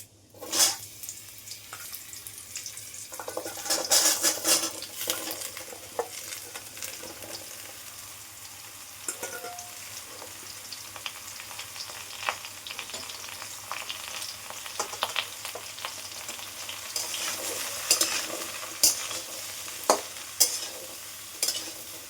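Bottle gourd pieces frying in a pan give a low, steady sizzle, broken by bursts of scraping and clattering as they are stirred, busiest early on and again toward the end.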